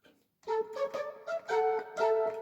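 A breathy, pipe-like tone from a Roland Pro-E keyboard's breath pipe preset plays a short run of notes, each with an airy onset, fairly loud and alone.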